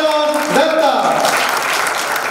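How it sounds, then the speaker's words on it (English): Applause rises for the chief guest at an awards ceremony, a dense crowd clapping under a sustained musical tone and a brief voice at the start, moderately loud and continuous. "give a big round of applause for our chief guest"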